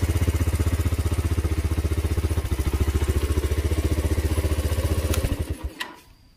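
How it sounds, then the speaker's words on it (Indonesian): A Suzuki Thunder 125 motorcycle idles through its standard muffler with the filter removed, giving a steady, rapid, close-up thumping exhaust pulse that stutters and fades as the engine shuts off near the end. "suaranya kayak gitu teman-teman yang dihasilkan dari knalpot seperti ini knalpot standar cuman saringannya udah lepas"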